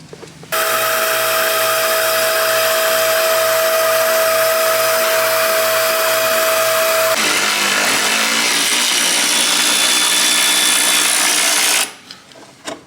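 Air impact guns buzz steadily, up close and loud, on bolts under a Honda CR-X during suspension work. One continuous whine-buzz runs about seven seconds, then shifts to a rougher rattling burst before cutting off near the end.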